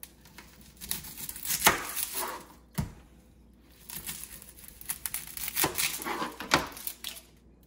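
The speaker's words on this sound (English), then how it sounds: "First, you're gonna cut the onion up, however you cut your onion up." Onion being cut up on a board, with irregular crisp crackles, papery crinkles and a few sharp knife taps, fairly close and quiet, with no voices.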